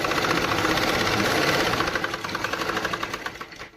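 Sewing machine running continuously while stitching straight lines across folded fabric, a dense fast mechanical whirr with rapid needle rattle, close and steady before slowing slightly near the end.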